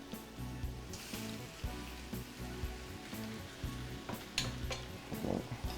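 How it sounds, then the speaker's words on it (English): Liver mixture stirred in a hot pan gives a continuous low sizzle and bubbling under occasional soft scraping strokes, close and fairly quiet, with no talking. "Mix it up just a little bit."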